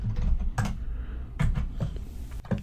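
A computer keyboard is typed on at a command prompt: a few quick key-tap bursts and separate clicks, close and fairly loud, with no talk.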